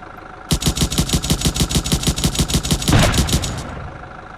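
Projectiles fired at a turret in an Unreal Engine 5 scene rattle out as a rapid, evenly spaced machine-gun burst of about twenty loud shots, ending in a brief impact swell before fading.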